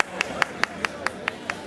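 At a Buenos Aires-area festival honoring Padre Mugica at the Cabildo, an audience claps in a steady, evenly spaced rhythm, each clap sharp and distinct over a low background hum.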